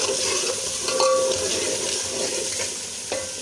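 Spice masala frying in a pan for a potato and egg curry, a dense, loud sizzle with a few clinks and scrapes of stirring.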